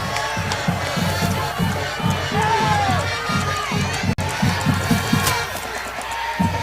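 Crowd noise at a high school football game between Walnut and Belmont, fans in the stands cheering and shouting in a steady din with rhythmic stomping or chanting pulses underneath and scattered whoops rising above.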